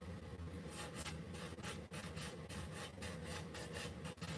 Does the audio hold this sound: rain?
no